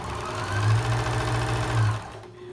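A sewing machine stitches the hem of a man's dress shirt in a steady, close, fast mechanical whir that runs for about two seconds and then slows and stops.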